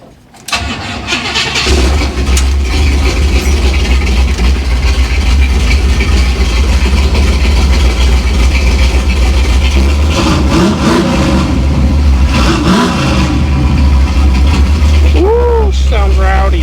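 A 1955 Buick Super engine cranks and catches, then settles into a loud, rough, rumbling idle close by, with a few revs and a voice speaking briefly near the end.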